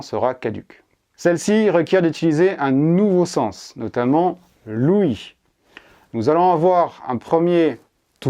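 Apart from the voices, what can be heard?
No everyday noises stand out.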